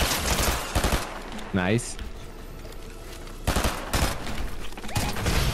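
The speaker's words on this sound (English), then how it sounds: "Go ahead and start shooting." Rapid video game gunfire in the shooter Gun Wars comes in loud bursts at the start and again near the end, with a brief spoken word in between.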